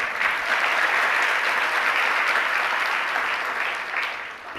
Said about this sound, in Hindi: आप भी ताली बजा करके भक्ति तो करते हैं।